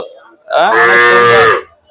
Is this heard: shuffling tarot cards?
no